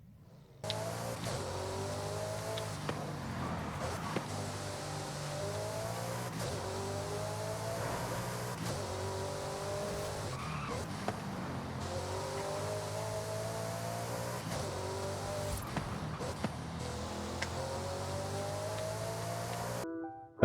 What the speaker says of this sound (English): that was the Bugatti Veyron Supersport. I believe this car is a W16 quad-turbo engine